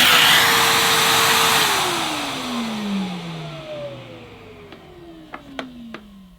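A Numatic Hetty Xtend vacuum cleaner motor whines loudly, then spins down with a falling pitch over several seconds, leaving fainter fading tones and a few light clicks.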